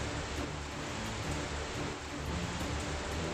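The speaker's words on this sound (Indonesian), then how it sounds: "anginnya kencang banget guys" Strong wind blasting steadily and loudly, a dense continuous rush with slight gusty swells and no pauses, heard alone without talk.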